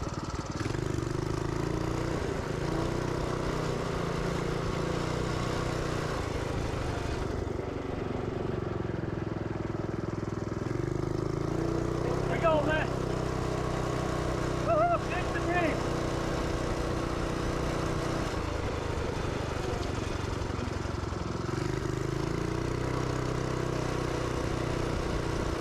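A running engine with a noisy clutch drones steadily throughout at a moderate distance, with a few faint metallic chirps partway through, while people talk at times over it.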